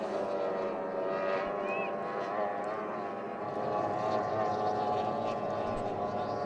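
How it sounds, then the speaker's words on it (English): F1 powerboats race at Rynfield Dam, their engines a sustained droning whine that carries from a distance and stays fairly even, with a voice faintly mixed into the background. "The boat's all heading away from us to the top turn"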